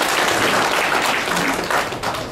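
Applause from a corporate session audience, acknowledging one of its members: a full, continuous wash of clapping that tapers slightly at the end, with no talk over it.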